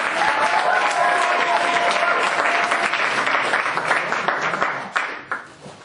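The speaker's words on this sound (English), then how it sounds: "everybody clap, Dave, Duncan!" A large comedy club audience claps loudly and continuously, the dense applause thinning out into a few scattered claps at the end.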